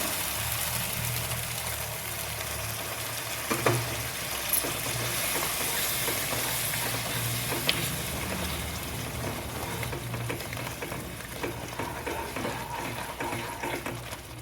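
Steady loud sizzling and crackling of masala frying in a hot pan for a mushroom dish, with a wet hiss as half a cup of water hits the oil, continuous throughout.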